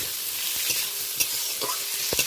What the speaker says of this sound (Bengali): পেঁয়াজ আর টমেটো ফোড়নের সাথে বেশ ভালো করে নাড়াচাড়া করে নিচ্ছি